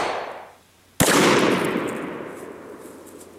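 A single sharp gunshot from a full-size Glock 22 firing a 125-grain Speer Gold Dot 357 SIG round into ballistic gel, loud and close, with a long ringing decay and no talk.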